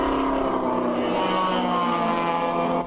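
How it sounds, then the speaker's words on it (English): Race car engines screaming at Daytona during a ChampCar endurance race, a loud continuous drone of high-revving motors with layered harmonic tones, steady throughout before cutting off at the very end. "Just engines screaming at Daytona."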